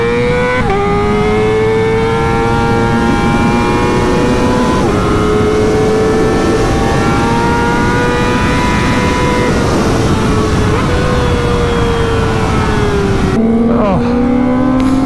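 A Graves Motorsports Kawasaki ZX-4RR sportbike screams at high revs while ridden, a loud sustained engine whine that rises and dips through several gear shifts, with a sharp drop near the end.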